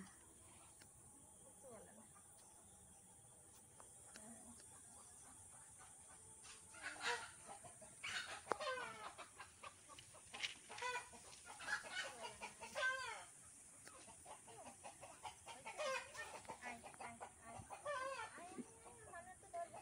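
Chickens clucking at a farmyard with goats nearby, a loose run of fairly faint clucks and calls over an outdoor hiss, growing busier midway.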